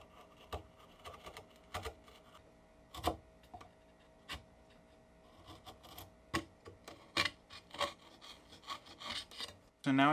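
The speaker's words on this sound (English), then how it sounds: "Now I can clean up these tails with a chisel." Chisel paring and cleaning hand-cut wooden dovetail tails, quiet close scraping strokes and light taps in an uneven rhythm, growing busier toward the end, with no talk.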